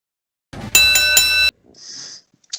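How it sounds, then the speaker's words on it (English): A ringing bell opens a wrestling podcast episode, a bright sustained metallic tone lasting under a second, followed by a softer hiss and a short faint click. "let's ring that bell and let's get started"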